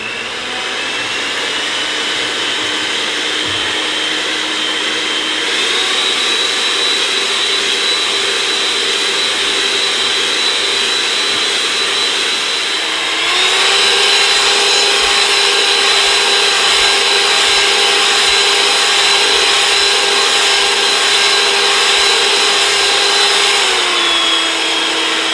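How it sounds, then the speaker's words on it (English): Electric stand mixer with a whisk attachment beating egg whites into meringue foam, a steady loud motor whine that holds for the whole stretch and steps up in pitch partway through as the speed is raised. "we're gonna get started with a whisk on my mixer"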